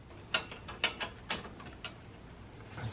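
A lug nut threaded by hand onto a new rear wheel stud on a Subaru WRX gives a few light metallic clicks and ratcheting ticks, close and quiet, spaced irregularly with no talking.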